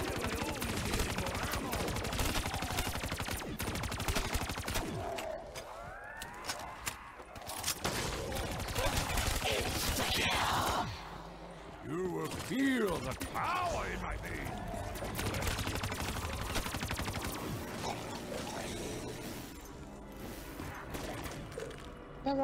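In the Kino der Toten zombie game, a turret gun fires in dense continuous bursts mixed with other game effects, loud and close, with a voice talking over parts of it.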